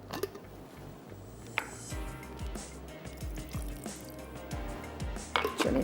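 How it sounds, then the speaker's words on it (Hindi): Water, three to four tablespoons, is poured into a blender jar, giving a soft trickling and dripping with small splashes close by, and no voices. "चलिए 3 से 4 टेबल स्पून मैंने पानी ऐड कर दिया है।"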